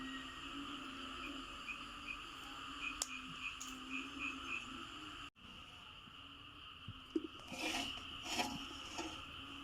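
Frogs croak steadily at night among chirping insects, a dense overlapping chorus of repeated calls at moderate distance, with no voices.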